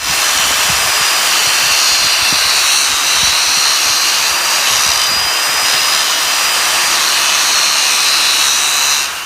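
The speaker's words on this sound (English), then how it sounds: "So I'm going to go ahead and hit that some more with the grinder." A grinder sharpening the bent edge of pruning shears, a loud continuous high-pitched grinding whine held steadily for several seconds, close and alone.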